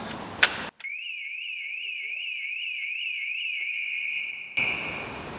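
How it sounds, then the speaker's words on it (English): A 2003 Skoda Fabia's car alarm wails in a rapid warbling electronic tone that cycles steadily for a few seconds, preceded by a sharp click and followed by background noise. "The alarm works now"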